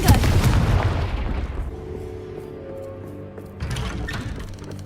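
Fiery blast spell cast in the Hogwarts Legacy video game, a loud, booming explosion that rumbles and fades over a couple of seconds, followed by a second, lighter impact.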